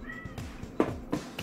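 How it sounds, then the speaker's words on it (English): A cat meows outside a door, two or three short, fairly close calls in quick succession against a quiet room. "got the cat meowing outside the door if you can hear that"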